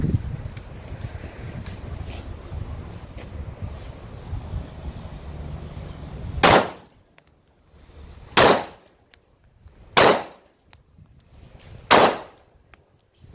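A Kimber Stainless Target II 1911 .45 ACP pistol fires four loud, sharp shots at roughly two-second intervals outdoors, after a stretch of wind noise and distant rumble.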